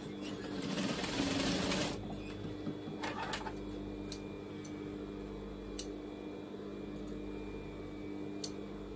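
A sewing machine stitching down overlocking on the sleeves of a top made from a tee shirt pattern: a fast, loud whir for about two seconds, a shorter burst, then quiet with a few sharp ticks.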